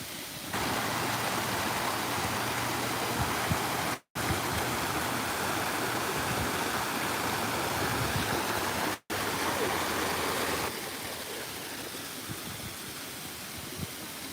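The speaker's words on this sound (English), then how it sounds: "that is the waterfall" A waterfall roars as a steady, loud, broadband rush of falling water heard from nearby, with two brief dropouts and a slightly softer stretch toward the end.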